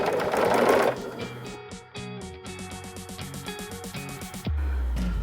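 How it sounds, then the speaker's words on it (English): A sewing machine stitches pillowcase fabric pieces sewn right sides together. It starts with a rush, then runs in a steady rapid mechanical chatter up close, pauses briefly, and ends with a low thump, with no talk. "put the set right sides together and sew down the line"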